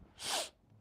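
A single short, sharp sneeze bursts out alone, close but fairly quiet, lasting under half a second.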